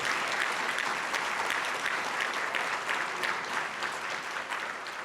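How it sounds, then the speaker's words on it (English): Warm, continuous clapping from a seated crowd at the Lucas County Mental Health Recovery Services Board's 10th annual recognition ceremony, a dense even patter that tapers slightly toward the end. "Let's give them a big round of applause and thank you."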